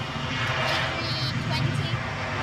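WestJet Airbus A320 jet at Edinburgh airport, a steady distant engine rumble and roar filling the background while people talk nearby.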